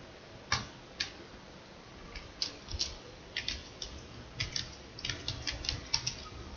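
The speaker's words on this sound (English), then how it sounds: "So first I'll type now." Light typing on a computer keyboard during a Python programming lesson, scattered soft key clicks in irregular clusters over a faint background hiss, with no voices.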